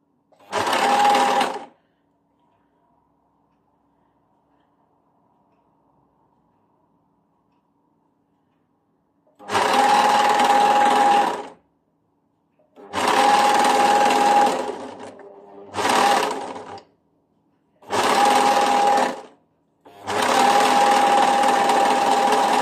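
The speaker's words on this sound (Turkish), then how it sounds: "Ve yakamızı dikmeye devam ediyoruz." An electric sewing machine stitches the collar of a tunic in loud, close bursts of rapid whirring, six runs of stitching separated by pauses, the longest one near the start, with no talking.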